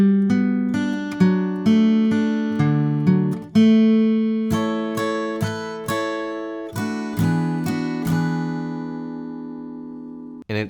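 Acoustic guitar plays the first part of the bridge from a song, a run of plucked chord notes and single-string lines with steady rhythmic accents, close and clear with no talking.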